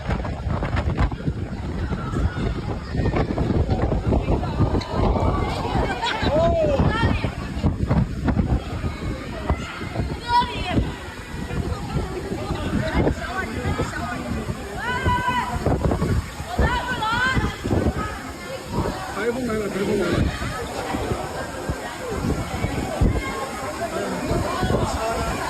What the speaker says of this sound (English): Clearly some very strong wind, taking a few people off of their feet.